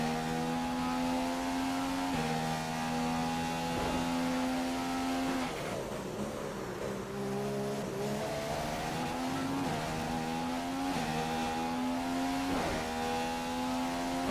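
In F1 2015 at the Australian track, a Formula One car engine screams at high revs, climbing through repeated upshifts and dropping under braking, with brief tire squeal and no talking.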